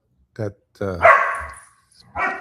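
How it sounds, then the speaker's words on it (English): A rambunctious dog barks indoors in a home office, three or four sharp, loud barks spaced over a couple of seconds, close to the microphone with silence between them. "The dog's getting a little rambunctious over here."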